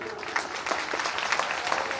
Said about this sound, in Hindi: आप ताली बजाओ उनके लिए।